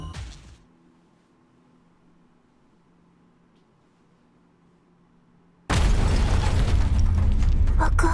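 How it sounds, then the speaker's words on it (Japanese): A sudden, loud explosion erupts in the video game Reverse Collapse: Code Name Bakery after a long stretch of near silence, then roars on as a dense, sustained blast to the end. "Another explosion."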